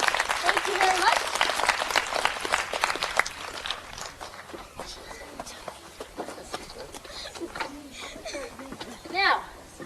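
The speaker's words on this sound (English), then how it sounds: "So let's give them a round of applause." Audience applause for young stage performers after a fast dance number, a dense burst of clapping that thins out into scattered claps, with voices and children's chatter underneath.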